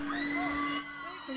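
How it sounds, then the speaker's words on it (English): A school annual day audience whoops and cheers for a girl performer, loud shouting and yelling from a crowd with a sustained tone underneath, dipping briefly before rising again. "round of applause to Telangana girl"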